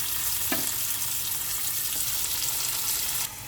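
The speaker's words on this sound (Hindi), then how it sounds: "चिकन जो मैरिनेट की हुई थी वो इसमें ऐड कर रही हूँ।" Marinated chicken for a tandoori tawa chicken dropped into a hot pot, giving a steady close sizzle and frying hiss with a brief stir or clatter near the start.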